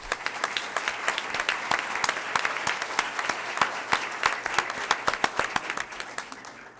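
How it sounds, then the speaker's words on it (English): An audience at a school board meeting claps for honored students, a sustained round of many hands with distinct sharp claps, fairly close and steady before tapering at the end. "one more round of applause for our students."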